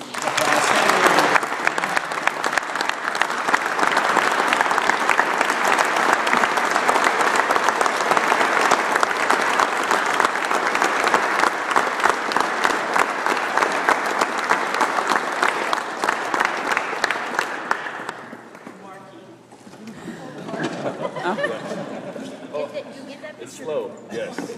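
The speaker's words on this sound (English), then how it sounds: "So everybody please give a round of applause." Audience at the Idaho Business Leader of the Year 2013 event giving a long, loud round of applause that fades out after about eighteen seconds, followed by scattered voices and room chatter.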